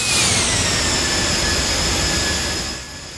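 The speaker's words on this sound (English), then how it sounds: "it touches down, gets the reverses open and rolls out with no hassle" A simulated ToLiss A319 jet in X-Plane 11 roars loudly with reverse thrust after touchdown, a dense, steady rush of engine noise that eases slightly at the very end.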